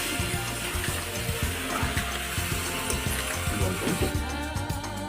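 Water is poured into a chicken curry cooking on a wood-fired stove, making a continuous rushing splash mixed with bubbling and light clinks, moderately close and without speech.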